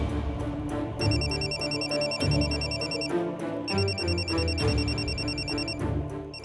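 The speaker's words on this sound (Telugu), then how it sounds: "ఏంటిది మళ్ళీ ఫోన్ చేసింది?" A telephone rings in a domestic TV-serial scene, repeated bursts of an electronic ringtone with bright bell-like tones in a rhythmic pattern, fairly close and clear over a low background.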